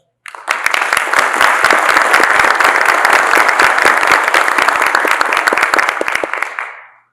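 Strong applause from an audience at an academic induction ceremony, beginning abruptly, holding loud and dense, then stopping sharply.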